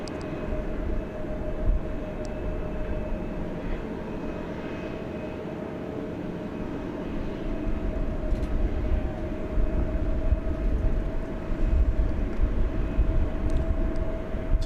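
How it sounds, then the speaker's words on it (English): Volaris Airbus A321 jet departing DFW Airport at night, a steady, continuous engine roar with a sustained hum, holding level and swelling slightly louder toward the end, with no voices. "We have an international departure coming up. Volaris Flight 801 to Mexico City."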